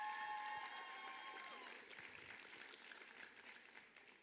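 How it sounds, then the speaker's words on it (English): Audience applause at a National Signing Day event, a soft wash of clapping from a crowd that tapers off, following a sustained tone at the start, heard from some distance. "Let's give her a round of applause."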